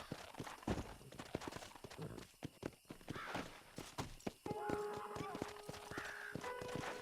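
A horse's hooves clip-clop in the Western video game Red Dead Redemption, a steady close gallop with thudding beats, game music tones toward the end, and someone talking over it.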